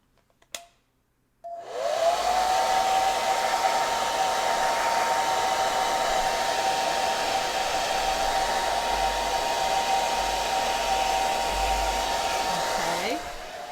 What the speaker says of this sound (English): maybe we'll just give it a shot with the dryer here and get it to dry.